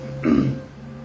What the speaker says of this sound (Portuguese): Teria continuado tossindo se não a tivesse impedido.